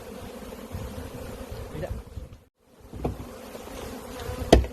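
Michigan honey bees buzz around an open hive during frame removal, a steady close hum of many insects with a brief dropout and a sharp knock near the end.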